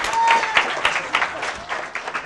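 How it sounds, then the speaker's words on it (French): A group of children in a circle game claps in short, uneven bursts of sharp hand slaps, lively and fairly close, fading a little toward the end. "Applaudissez pour eux."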